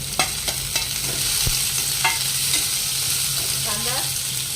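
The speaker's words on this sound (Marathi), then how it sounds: "मग कांदे टाकू, आता कांदा टाकून घेऊया।" Chopped onions going into hot oil already frying with green chillies, coriander and curry leaves for a dry potato dish, a steady close sizzle broken by a few sharp scraping stirs of the spoon against the pan.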